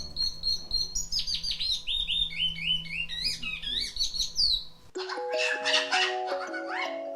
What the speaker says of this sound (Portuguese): Tudo isso é pelo canto trinado, que pode chegar a 25 notas.